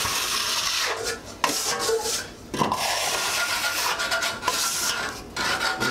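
A drywall tape repair is scraped out by hand, with close rasping, scratchy strokes that repeat in short irregular bursts with brief pauses between them.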